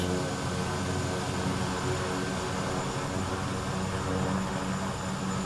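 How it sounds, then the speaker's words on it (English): A Kodiak 100 single-engine propeller plane in a flight simulator, its engine recorded from the real aircraft, gives a steady, droning hum with a constant tonal whine, unbroken and fairly loud for the whole stretch. "The noises are all recorded from the real plane, so it is very, very realistic."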